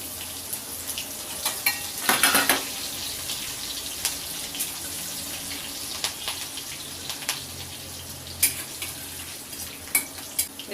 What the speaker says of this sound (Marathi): आता तुपात आपण जिऱ्याची फोडणी करणार आहोत